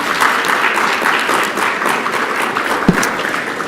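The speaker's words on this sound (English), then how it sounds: "if you'd join me in giving a round of applause for them" An annual general assembly audience breaks into a sustained round of applause, a dense, even wash of many hands clapping in a hall, holding steady with one sharper clap standing out near the end.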